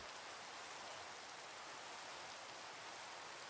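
Rain in Minecraft pours as an even, continuous hiss, steady and unchanging across the short stretch, with no voices over it.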